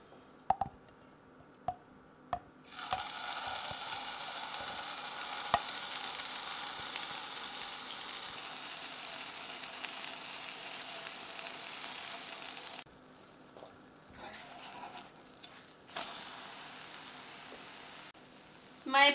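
A keto pancake fries in a pan with a steady, moderately loud sizzle that holds for about ten seconds, then drops away and leaves faint clinks and small sounds.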